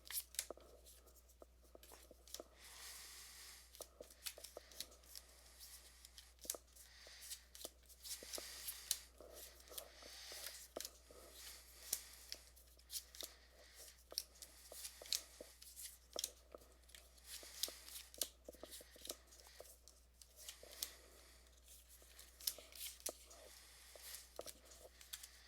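Point Salad vegetable cards are pile shuffled on a table, soft irregular papery taps and slides repeating quietly and steadily over a low hum.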